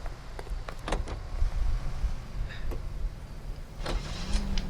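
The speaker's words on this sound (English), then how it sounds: "Press Y to enter vehicle." A car door opens and shuts as a character gets into a vehicle in the video game L.A. Noire, with clicks and thumps over a low steady engine-like rumble.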